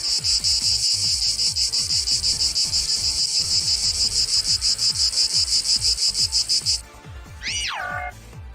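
A loud insect buzz, a cicada-like drone, pulses rapidly and steadily for several seconds as a monster called Cicada King is summoned in an animated card-game series. It is joined by low rhythmic throbs, then cuts off into a rising and falling synthetic sweep.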